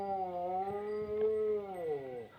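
A dog in a rural Indian village yard howls and whines in one long, wavering, tonal cry that rises and bends, close and fairly loud, with no other sounds around it.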